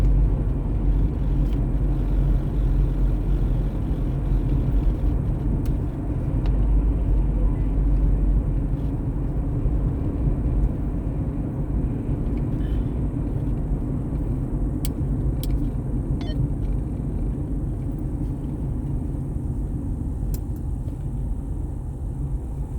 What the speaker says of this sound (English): I don't know where all this damn traffic's coming from